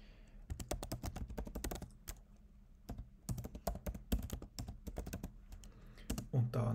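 Rapid clicking of keys on a computer keyboard as a search query is typed, coming in close, steady bursts separated by short pauses, with no voice over it.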